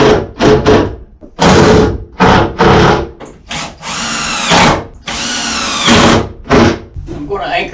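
Power drill driving 3-inch torque screws into wood on a log cabin build, heard as several loud, close bursts of whining motor and screw grind separated by short pauses.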